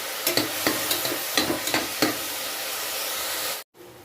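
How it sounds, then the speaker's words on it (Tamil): Onions sauté in a hot pan with a pinch of salt and fennel seeds, a steady sizzle broken by a run of sharp scraping stirs from a spoon, close by, before the sound cuts off abruptly near the end. "வெங்காயத்தை நல்லா வதக்கிக்கலாம்."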